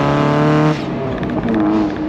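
A Mazda Miata with a valved exhaust and an added resonator holds a loud, close engine drone, then lets off into a rough, crackling popping from the exhaust.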